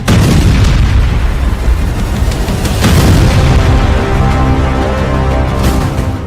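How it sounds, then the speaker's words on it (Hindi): Heavy explosions from missile strikes on a weapons depot rumble continuously, with booming blasts rolling one after another and a sharp burst standing out partway through. "फिर सीरियल ब्लास्ट"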